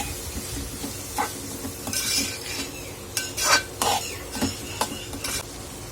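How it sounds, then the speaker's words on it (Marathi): Toor dal is sautéed in a pan for a Solapur-style dry kadvanchi vegetable dish, with a spoon making intermittent scraping and clinking strokes over a faint, close sizzle. "तुरीची डाळ घालून घेणार आहोत आपण आणि तुरीच्या डाळीलाही परतवून घेणार आहोत आधी आपण"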